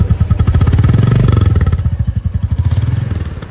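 A new 2023 Royal Enfield Bullet motorcycle engine at delivery, thumping loudly and close with a rapid, even single-cylinder beat that swells as it is revved, then settles back.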